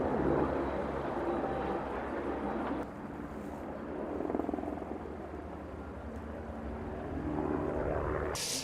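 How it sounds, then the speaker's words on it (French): Canadair water bombers and firefighting helicopters flying over a wildfire in the Var region of France, a broad continuous aircraft roar that swells and fades, heard at a distance with wind buffeting the microphone. "Ces moyens aériens, c'est 4 Canadair, 3 hélicoptères bombardiers d'eau et 2 Dash."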